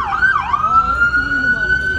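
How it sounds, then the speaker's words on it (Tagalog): A police car siren wails steadily and loudly on a busy street patrolled by many officers, one sustained rising-and-holding tone over crowd and traffic noise. "Narinig nyo naman na may tumunog na sasakyan ng pulis."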